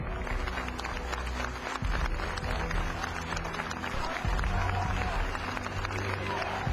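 Large funeral crowd on the street, thousands following the hearse, applauding and clapping in a steady dense wash, with voices and chanting mixed in and a low vehicle rumble underneath.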